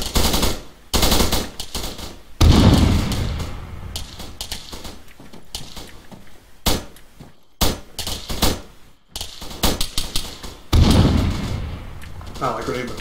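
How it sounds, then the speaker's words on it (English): Loud bursts of automatic and single gunfire crackle from a military video game, close and sharp with short pauses between volleys, while someone talks over parts of the shooting. "There's a guy shooting out the window at you."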